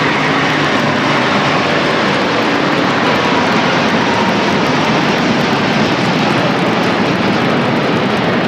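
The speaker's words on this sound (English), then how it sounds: "I do believe we have takeoff." An Airbus A350 XWB jet on its first test flight takes off with a loud, steady, broadband engine roar that holds at full volume throughout and has no pauses.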